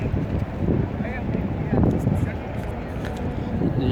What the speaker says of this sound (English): wind is blowing so fast here at Prophets Mosque